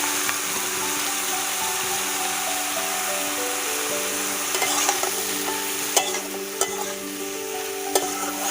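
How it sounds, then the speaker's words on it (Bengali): Potato and stem pieces fry with turmeric in a pan, giving a steady close sizzle with occasional sharp clinks and scrapes of a utensil stirring near the end. "এই আলু আর এই ডাঁটাগুলো ভেজে নেব।"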